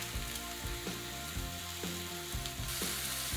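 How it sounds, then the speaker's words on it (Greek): Steady hiss and crackle of mushrooms and garlic sautéing in olive oil in a hot pan over high heat, with occasional clinks and scrapes of stirring, no voices. "Και αφήνεις να σοταριστούν μέχρι να βγάλουν όλα τα υγρά και να μαλακώσουν."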